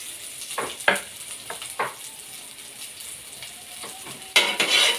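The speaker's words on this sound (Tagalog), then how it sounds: "atin na pong ilagay itong sibuyas, bawang" Onion and garlic hitting a hot pan for chopsuey, sharp sizzling bursts with stirring and spatula scrapes, loud and close, with a louder hiss near the end.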